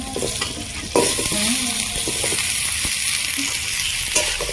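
Potatoes fry in oil with onion and green chilli while a utensil scrapes and stirs them in the pan, a loud sizzle that jumps up about a second in, with intermittent scraping strokes.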